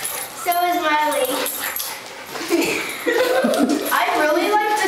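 A young puppy whimpers and yips in high, wavering cries at close range, mixed with people talking and chuckling over it.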